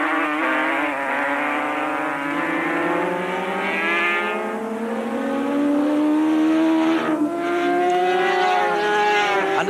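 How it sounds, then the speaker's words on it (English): A racing motorcycle at a road race circuit passes by, its high engine whine rising and shifting in pitch as it draws near, loud and sustained, then gradually pulls away. "And here he comes to collect the checkered flag from PJ."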